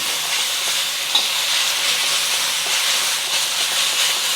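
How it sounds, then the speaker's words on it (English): Beef and onions fry in a pan with a loud, continuous sizzle and hiss, steady and close, with faint stirring clicks underneath. "So you want to cook the beef until it's no longer pink inside and it's just starting to release some juices."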